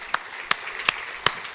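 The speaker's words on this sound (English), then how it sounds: "I want to give those folks a round of applause." A church congregation applauds volunteers, though only a few sharp, separate claps stand out in a short burst against a quiet background.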